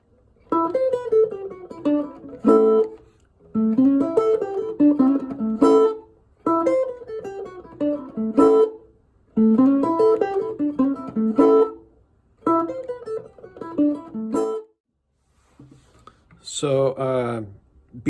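Electric blues guitar plays short phrased licks in repeated bursts separated by brief pauses, moving back and forth, before closing on a bright strummed chord.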